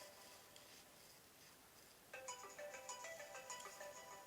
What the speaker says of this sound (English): Sorry, my phone rang.